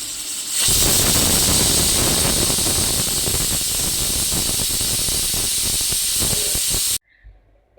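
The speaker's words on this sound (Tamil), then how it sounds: "நான் இந்த குக்கரில் 2 விசில் விடுவேன்" A pressure cooker whistle lets off steam while biryani cooks, a loud, steady hiss that runs for about six seconds and then stops abruptly.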